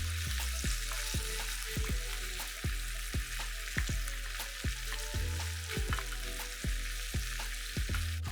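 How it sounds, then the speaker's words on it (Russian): Liver fries in a pan over medium heat with a steady, dense sizzle, punctuated by regular low knocks and taps of a utensil against the pan throughout. "Обжариваем на среднем огне сначала с одной стороны, а затем переворачиваем на другую сторону."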